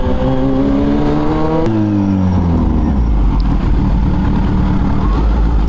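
A Kawasaki Z H2 motorcycle with an aftermarket exhaust revs loudly with rising and falling harmonic tones, then drops into a deep, rumbling idle that continues steadily.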